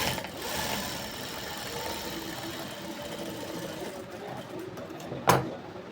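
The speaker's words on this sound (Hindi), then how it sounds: "एक साइड सिलाई मार के ले लेंगे इस तरह से" A sewing machine runs a continuous stitching pass along one side of plain black fabric, its fast mechanical whir steady and fairly quiet, ending with a short sharp clack.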